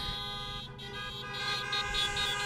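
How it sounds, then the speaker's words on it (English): Car horns honk together in a steady, overlapping blare at a drive-in Chanukah celebration, sustained and layered for the whole stretch with no pauses. "honk your horns again for Chef Peter"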